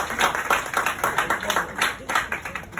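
Audience clapping at an evening event with a Senate president, a lively run of many hands in quick rhythmic bursts, fairly close and moderately loud.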